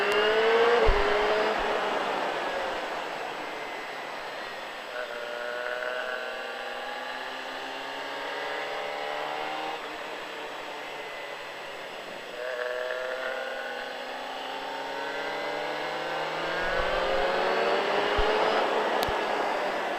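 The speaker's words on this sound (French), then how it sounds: "On redresse et on accélère." A race car on a circuit accelerates through repeated rising gear pulls, the engine note climbing and shifting several times at moderate distance on a cold track day.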